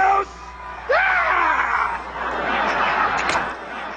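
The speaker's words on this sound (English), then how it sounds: "That's footage of former Vermont Governor Howard Dean's infamous scream while ramping up his Iowa following during his 2004 bid for president" A loud, hoarse yell from former Vermont Governor Howard Dean at a 2004 Iowa presidential campaign rally, rising into a strained shout over steady crowd cheering and noise.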